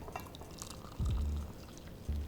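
Hot water poured into a cup of instant coffee with sugar, a brief close pouring splash with a second short pour near the end.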